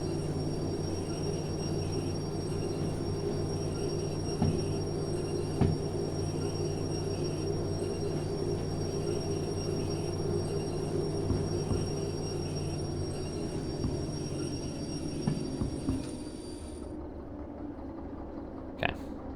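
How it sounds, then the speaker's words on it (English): A locomotive in the train simulator Derail Valley rolls past a rail switch, a steady low engine drone with harmonic hum and occasional clanks and thumps, continuous and fairly close, cutting off abruptly near the end. "So I need to get the locomotive past the switch."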